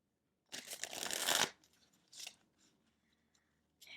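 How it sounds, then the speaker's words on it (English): Tarot cards are shuffled in one long riffling burst up close, followed by a few shorter, softer card shuffles and taps. "Okay, one more shuffle, then we'll get into it."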